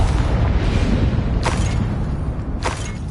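The Confringo blasting spell in Hogwarts Legacy sets off booming explosions: a heavy low rumble throughout, with two sharp bursts about a second apart, loud and close.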